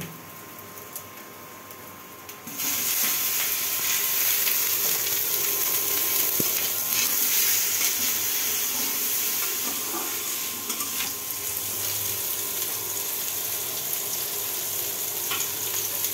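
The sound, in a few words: vegetables frying with onion and green chili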